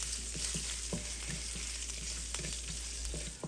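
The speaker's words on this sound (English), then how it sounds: "now it's sizzling nice and gentle. Heard a couple of the seeds pop." Cauliflower, potato and charnushka seeds sizzle gently in hot oil, a steady soft frying hiss with a few faint scattered pops and ticks from the seeds.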